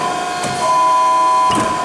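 Hines 300NC-E hydraulic tube and pipe bender clamp cycling, a steady mechanical hum with faint tonal whine and two soft clunks of the clamp moving, close and loud, without talk.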